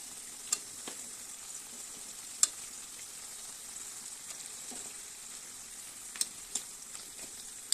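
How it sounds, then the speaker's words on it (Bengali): Fried fish heads sizzle gently in a simmering bottle gourd curry, a quiet steady bubbling with scattered soft clicks of stirring. "এবার ভাজা মাথাগুলো দিয়ে দিব"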